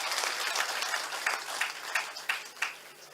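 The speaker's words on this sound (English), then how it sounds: "ताली बजा दीजिए by clapping" An audience at a talk applauding by clapping, a dense burst of many hands that gradually thins into a few louder individual claps near the end.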